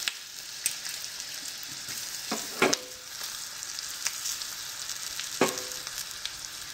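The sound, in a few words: garlic, asafoetida and dried red chillies frying for tadka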